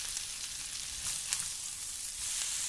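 An egg frying in a pan with its white set and yolk still runny sizzles steadily and fairly loud, with faint crackles and pops throughout and no speech.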